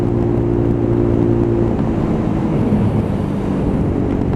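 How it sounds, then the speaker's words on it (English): A Lexmoto Tempest motorcycle is ridden at full throttle while it suffers a cutting-out fault, its loud continuous engine drone mixed with heavy wind rush over the microphone. "And still full bore, full throttle."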